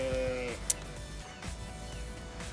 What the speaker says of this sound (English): We've got sheep, and they're very noisy.